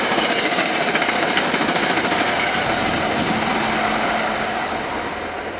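A train passes close by at speed, a loud continuous roar of rolling wheels and rattling wagons that fills the whole clip and eases slightly toward the end.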